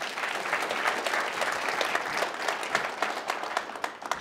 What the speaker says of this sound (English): Round of applause for my orchestra, please.